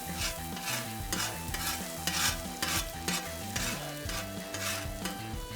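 Onions sizzle steadily on a hot griddle while a spatula scrapes and pushes them with rhythmic metallic strokes, loud and close with no talking, during a burnt-ends Philly cheesesteak cook.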